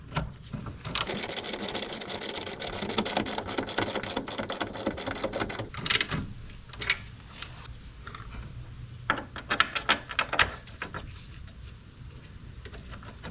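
A ratchet tightens a bolt on the control arm of a 2005 Ford Focus, with rapid close clicking for several seconds, then scattered slower clicks and metallic knocks.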